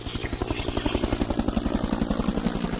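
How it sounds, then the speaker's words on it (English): A helicopter near a hospital, steady rhythmic rotor thumping with a buzzing engine whine, continuous and fairly close, with no voices. "That was the helicopter."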